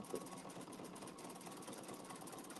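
An embroidery sewing machine stitches out a design in a steady, fast mechanical whir with a rapid rattling needle beat, faint and continuous, with no voices.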